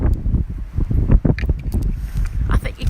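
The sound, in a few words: wind blowing into an outdoor microphone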